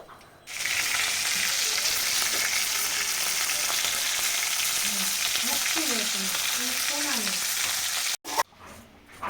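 Fish heads frying in hot oil in a kitchen pan, a steady loud sizzle crackling throughout with occasional stirring scrapes and clatter, close by, with no talk.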